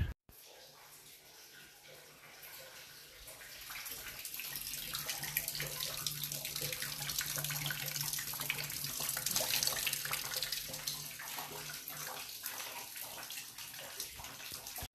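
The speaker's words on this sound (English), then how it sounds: "pick up water with towels and pour it into this trash can" Water running and splashing steadily as soaked towels are wrung out and poured into a trash can indoors during a Texas freeze, a continuous moderate gushing with no voices.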